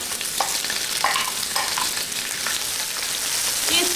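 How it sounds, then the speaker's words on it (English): Chopped onion fries in hot ginger-infused oil for a Chinese lychee shrimp dish, a loud continuous sizzle up close with occasional soft scrapes of stirring and no voices. "We're going to cook the onion for 1 minute until the onion is slightly"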